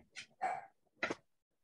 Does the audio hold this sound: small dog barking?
yes